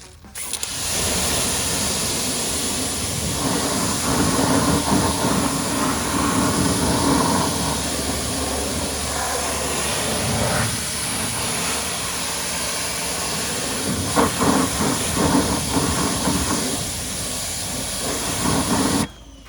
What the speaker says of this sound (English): go ahead and give it a good rinse.